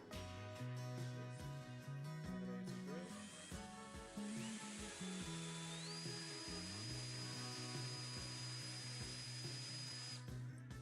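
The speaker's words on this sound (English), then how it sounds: "Then I use a drill just as earlier and twist the branches together." An electric drill whirs steadily in short bursts while twisting wire branches together, then runs in a longer spin with a rising whine, close by and fairly quiet.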